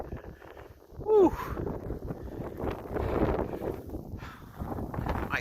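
Strong blizzard wind in Buffalo, New York, roaring and buffeting a microphone in steady gusts, with brief rustling and a short whistle-like tone partway through.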